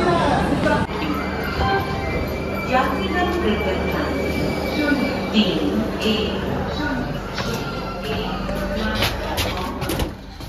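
A Guwahati to Sealdah special train rumbles along with thin, high wheel squeals cutting in and out, heard close and fairly loud while people talk over it.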